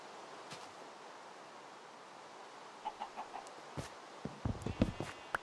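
A blocky video game chicken gives a few soft clucks in the latter half, faint over a low hiss, followed by a cluster of louder clicks and taps.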